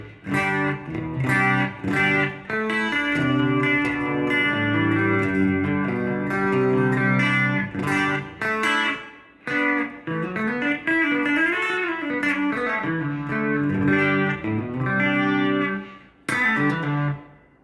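A bright, buzzy factory preset tone on a Korg A5 synthesizer plays a chordal phrase with gliding pitches and short gaps, heavily processed and distorted, with no talking.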